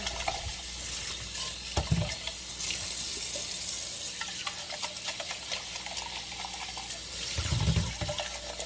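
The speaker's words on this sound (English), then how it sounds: "Rinse out these cans again." Empty cans rinsed under a running kitchen tap, a steady near hiss of water with light tinny clinks and a couple of heavier splashy bursts as the cans fill and empty, no talking.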